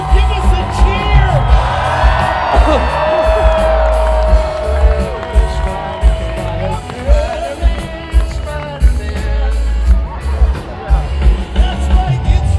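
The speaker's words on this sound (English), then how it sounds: "People in Orlando, give us a cheer!" An Orlando audience at a concert at Universal Studios Florida cheers and whoops loudly in waves, with a crowd din and musical tones underneath.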